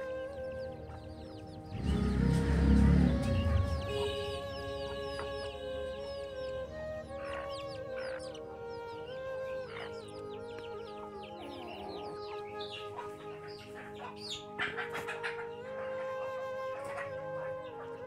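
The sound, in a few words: local chickens clucking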